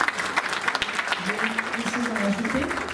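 Steady crowd applause at a gathering celebrating women, many hands clapping continuously at moderate distance, with voices audible underneath.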